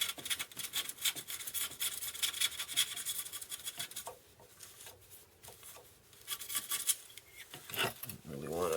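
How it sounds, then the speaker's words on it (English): Silicone being scraped off a GTX 970 graphics card, a faint, close scratching and rubbing in irregular bursts with short pauses between strokes. "I'm gonna try a little harder to get some of that silicone off"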